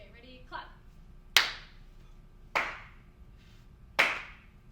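Three sharp, loud single claps at a senior recital, evenly spaced about a second and a half apart, each ringing briefly in the room, preceded by a brief softer sound.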